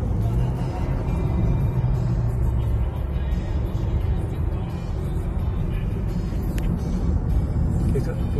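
Cars roar past in heavy, continuous road rumble during a police chase through Chapecó, with a loud, steady engine and tyre noise throughout and no clear gaps.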